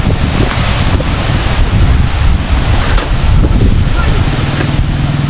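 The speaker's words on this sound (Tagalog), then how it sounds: "Dagat na kasi yan napaka-presko ng hangin." Strong seaside wind buffets the microphone over the steady wash of waves on the shore, loud and continuous, with faint voices underneath.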